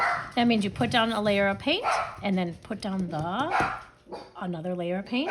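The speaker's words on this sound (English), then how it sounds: "Sorry about the dogs barking." Dogs bark in the background of a home while a person speaks steadily over them, the barks mixed in under the talking throughout.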